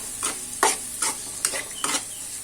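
Dry coconut powder is stirred into cluster beans frying in a pan, five distinct scraping stir strokes over a soft, steady sizzle, close and clear with no talking.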